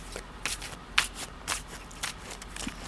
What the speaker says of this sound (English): When they tell me that they're done being shuffled, I'm gonna cut the cards